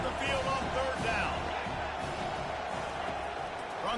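A home stadium crowd in a college football video game roars at a steady level, with cheers and whoops rising and falling over a busy, dense wash of noise.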